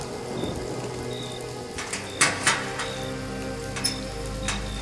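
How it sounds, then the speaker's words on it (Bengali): Steady rain falls outside, pattering on tree leaves with scattered louder drops and a few sharper splashes, a continuous wet hiss with no voices. "বাইরে বৃষ্টির শব্দ গাছের পাতায় পাতায় নুপুরের আওয়াজের মতন"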